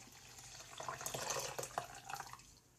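Water pours from a tap or jug while oatmeal is being prepared, a soft splashing trickle that swells in the middle with a few drips and then fades; no one speaks.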